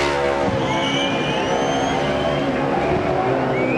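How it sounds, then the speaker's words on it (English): A race truck roars loudly through a burnout at Texas, its engine screaming at high revs with rising and falling pitch, crowd and track noise behind, no one speaking. "he's going to do the burnouts here at Texas"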